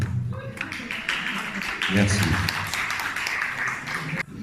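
Audience at a Miss Villeneuve d'Ascq 2022 pageant applauds a contestant, steady sustained clapping from a crowd with a voice speaking over it near the end.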